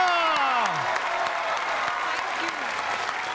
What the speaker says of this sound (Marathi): जोरदार टाळ्या झाल्या पाहिजे धरम गोयल यांच्यासाठी